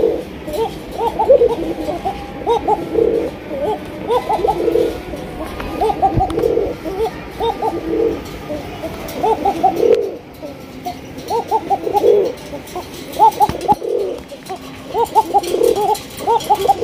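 Domestic Bangladeshi pigeons coo steadily in a loft, soft repeated coos overlapping from several birds against a low background hum, with no voices.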